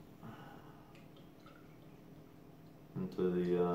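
Hofbräuhaus Traunstein Zwickl beer poured into a small Pils glass. Quiet trickling at first, then a louder, steady gurgling pour near the end, with a voice speaking briefly over it.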